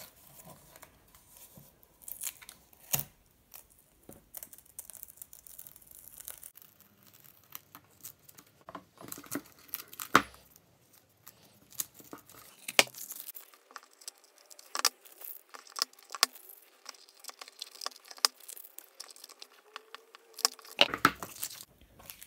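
Masking being peeled off an acrylic pour painting of a 3D cube design, soft close crinkles, tearing and papery ticks scattered irregularly across a quiet background, with a few sharper snaps.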